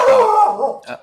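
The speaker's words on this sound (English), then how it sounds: "That's my dog. He agrees." A dog gives a short bark that trails into a whining howl, close and loud, followed by a brief softer yelp.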